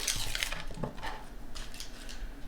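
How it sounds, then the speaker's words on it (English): A knife cuts vegetables into thick slices on a clean cutting board in a home kitchen, giving a few soft knocks and light clinks, quiet and close, with no talk. "I'm going to slice my vegetables up now"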